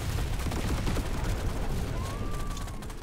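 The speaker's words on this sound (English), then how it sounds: "Oh, that was a nice explosion." Deep Rock Galactic Survivor gameplay explosion: dense, crackling blasts and rapid gunfire-like bursts pile up at the start, then ease into a rumbling wash with a thin tone rising near the end.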